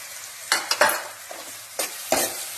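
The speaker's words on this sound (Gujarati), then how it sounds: "બરાબર મિક્સ કરી લેવાનું છે" Onions mixed with turmeric, red chili and coriander-cumin powder are stirred in a hot pan, making a few separate close scraping strokes over a soft crackling sizzle.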